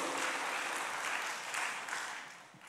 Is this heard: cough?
no